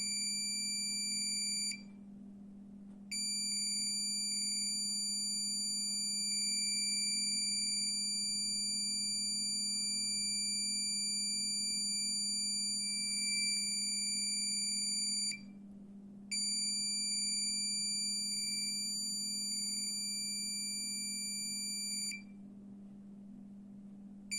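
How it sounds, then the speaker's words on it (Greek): Alarm buzzer of a self-regulating visible light, infrared, temperature and humidity control system, a steady electronic tone sounding in long stretches broken by brief silences, over a constant low hum, with no talking. "Αυτό είναι ένα επιπλέον σύστημα συναγερμού, όπως είπαμε, ειδικά για το ορατό"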